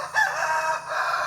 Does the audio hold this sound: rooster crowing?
yes